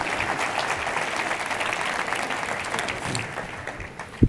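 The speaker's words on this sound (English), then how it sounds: "Give him a round of applause if you would, please." Conference audience applauding panel guests, among them the president of the Oklahoma Council of Public Affairs: sustained clapping from a sizable crowd that thins out, ending with a sharp knock or bump.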